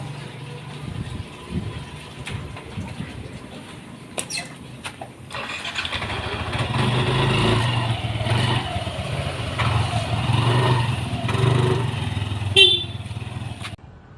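A motorcycle engine runs and revs up, its buzzing drone rising and continuing, with a few sharp clicks and some background noise.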